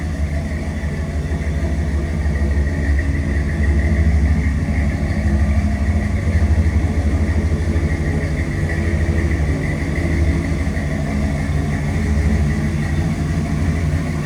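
A 1978 Dodge 150 pickup truck's 440 V8 engine idles steadily and loudly for a long stretch. Its deep, even rumble holds without any change in pace.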